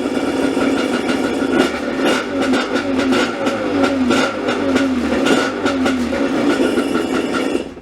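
A 650 SX dirt bike engine fitted with a 38mm carburetor revs hard and continuously, loud and close, with a raspy, buzzing roar rising and falling slightly.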